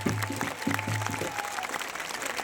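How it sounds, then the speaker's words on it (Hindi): A crowd at a Krishna Janmashtami celebration at a Swaminarayan temple in Pakistan claps in a fairly dense burst, over a low tonal hum and faint background sound. "भगवान श्री कृष्ण के जन्मदिन की बहुत बहुत सारी बधाइयां, खुलकर तालियां बजाएं।"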